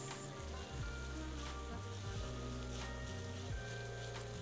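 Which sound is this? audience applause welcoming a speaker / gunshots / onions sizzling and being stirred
onions sizzling and being stirred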